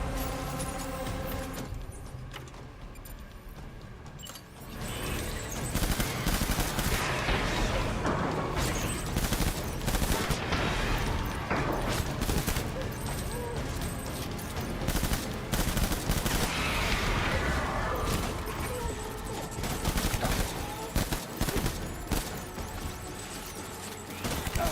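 Sustained gunfire in the video game Death Stranding Director's Cut, with dense bursts of rapid shots and booms running almost continuously and loud throughout.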